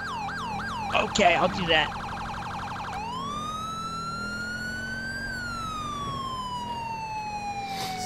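A police car siren in the video game GTA V wails in fast yelping sweeps, then switches to a long slow rising and falling wail; a voice speaks briefly over the early yelps.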